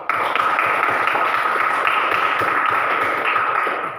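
A classroom group of students claps together for a classmate's answer, a dense, steady burst of hand claps lasting several seconds at fairly close range, with a faint tonal hum in the background.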